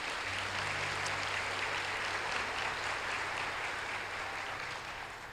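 A church congregation applauds in a sustained, even wash of clapping that holds steady throughout and fades slightly at the end, with a low hum underneath.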